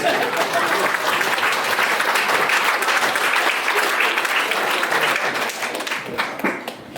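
Wedding guests break into loud, sustained applause, a dense wash of clapping that holds steady for several seconds before thinning out and fading near the end.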